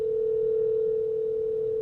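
Telephone dial tone after a dropped call, a single steady, unbroken hum held at even loudness, close and alone.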